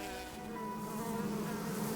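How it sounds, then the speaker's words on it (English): Giant Himalayan cliff bees swarm in spring, giving a steady, dense buzzing drone that holds at an even level throughout without pauses. "bees have come out of hibernation or joined others coming up from the valleys"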